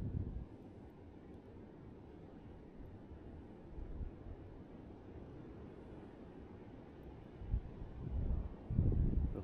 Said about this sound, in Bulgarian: Предполагам се чува вятъра.